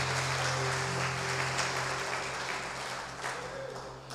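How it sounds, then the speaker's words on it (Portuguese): Church congregation applauding in a Portuguese-language service, a sustained dense patter of clapping over a low steady hum, fading slightly toward the end. "Você pode aplaudir Jesus?"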